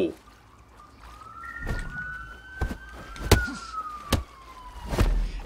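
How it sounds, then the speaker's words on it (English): A police siren in the video game Absolver wails in long rising and falling sweeps, with sharp bangs and clatter punctuating it at irregular intervals. "And, of course, you got the sirens."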